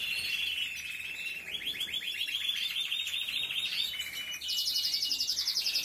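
Timbrado canary singing alone at close range, a continuous run of high metallic trills and rolling chirped phrases that shift pitch between segments and rise brighter near the end.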